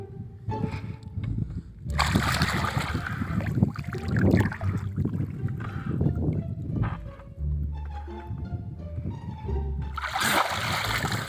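Splashing and sloshing in a river as someone tries to breathe underwater through a pipe, with bursts of churning water, gurgles and quieter pauses between.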